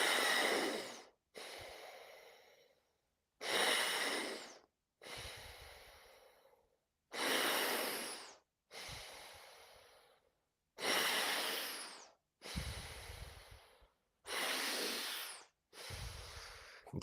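Ten strong, forceful breaths drawn through a sports breathing mask, each a loud, hissing rush lasting about a second, alternating inhale and exhale in a steady rhythm with short pauses between.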